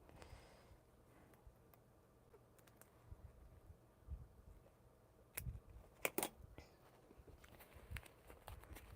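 Scissors snip through quilting fabric near a zipper seam on a pocket lining, several quiet, close, irregular clicks and cuts against a hushed room.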